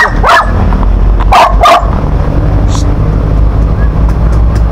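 A dog barks a few times close by over a loud engine rumble, with a person talking in between.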